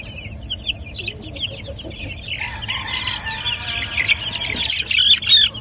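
Chickens cluck and squawk nearby in a busy flock, the chatter growing louder and more agitated toward the end over a low background hum.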